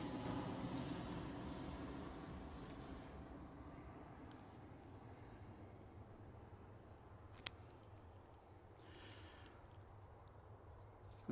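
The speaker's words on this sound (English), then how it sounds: "Awesome noise, love the props." A steady propeller aircraft engine drone, fairly distant and gradually fading, with a faint click near the end and no voices.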